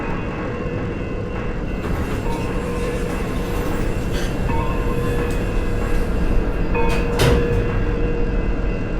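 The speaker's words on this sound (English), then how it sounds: "Train approaching. Please remain behind yellow line." A subway train pulls into an underground station platform with a loud, steady rumble that fills the whole stretch, and a brief hiss or squeal rises near the end.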